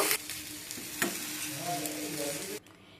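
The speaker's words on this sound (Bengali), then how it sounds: "এই তিনটাকে একইভাবে ভেজে নেব একটু" Vegetables, peas and cabbage among them, fry in a pan with a steady sizzle and occasional stirring scrapes, ending abruptly near the close.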